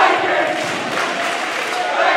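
Loud, sustained cheering and roaring from a crowd at a high school volleyball senior night match, close and dense throughout.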